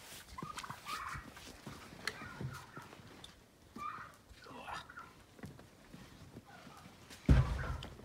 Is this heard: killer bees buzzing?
no